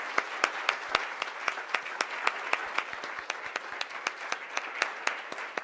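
Sparse applause from a small audience after a panel at an ethnic, gender and transborder studies summit, with distinct individual claps ringing out in an uneven rhythm, fairly close and moderately loud.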